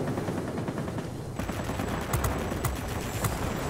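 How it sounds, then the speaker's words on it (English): Aircraft gunfire in the video game World of Warplanes, a dense rattling stream of rapid shots over engine roar, growing busier and punctuated by a few sharper cracks partway through. "Somebody's shooting at me that I don't want shooting at me."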